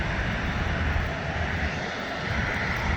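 Jet airliner roaring on LAX runway 24R during a landing or takeoff, a loud sustained broadband engine rumble that holds steady with a slight dip midway.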